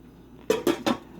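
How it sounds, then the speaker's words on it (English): A metal lid set onto a pot of rice on the stove: three quick clanks in under half a second, close and bright, as the lid settles and rattles into place. "First, you need to put the lid on it."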